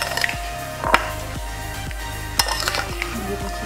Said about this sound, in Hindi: आप इसको मिक्स कर लें।